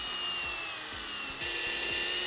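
Drill bit boring a hole into wood, giving a steady high-pitched whine with a faint rhythmic grabbing and releasing pulse about every half second, close and continuous throughout, with no speech.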